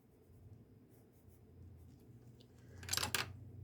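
A colored pencil scratches softly across a page of Johanna Basford's Magical Jungle coloring book, faint steady strokes ending in a sharper, louder scrape.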